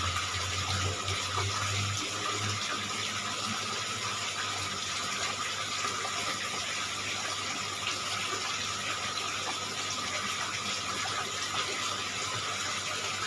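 Water pours steadily into an aquarium during cleaning, a continuous close gushing and hissing that runs unbroken with no talk.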